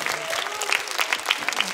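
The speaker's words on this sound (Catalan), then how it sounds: "I un aplaudiment de regal per l'Edu Castellà" Theatre audience at the Teatre Joventut in l'Hospitalet de Llobregat applauding after a children's cantata, dense continuous clapping close and loud, with a few voices mixed in.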